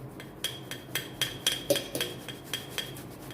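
Boiled potatoes being rubbed over a large metal grater, a steady series of about a dozen scraping strokes with sharp metallic taps at each pass, close and moderately quiet with no talk.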